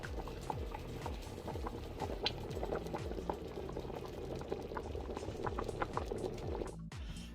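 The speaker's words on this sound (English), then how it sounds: "So place the cover on, and I'm gonna make it cook for 20 minutes." Jamaican stew peas with spinners bubbling in a covered pot, a steady close rolling boil with dense popping and gurgling that continues throughout, without talk.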